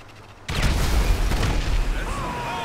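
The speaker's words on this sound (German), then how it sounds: "Nette Explosion, kann man gar nicht sagen." A sudden loud C4 explosion in Grand Theft Auto 5 bursts in after a quiet moment, followed by a sustained rumbling roar and crackling debris that lingers without fading much.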